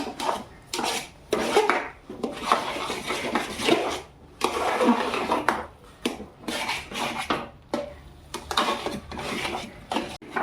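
Semolina (rava) batter for medu vada is stirred and scraped in a metal pan, with repeated close, gritty scraping strokes in an uneven rhythm and brief pauses between, and no talking.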